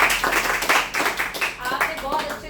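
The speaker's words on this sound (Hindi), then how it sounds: "आप सब लोग अपने लिए तालियां बजाइए" An audience claps for itself in a training session, a quick run of close, loud, irregular claps over a few seconds, mixed with a voice speaking over it.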